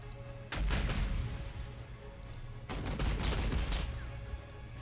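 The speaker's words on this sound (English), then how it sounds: "Well, that's a reaction fire from the shooters." Reaction gunfire from shooters in Warhammer 40k: Sanctus Reach, two loud bursts of rapid automatic fire with a short gap between them, no talking.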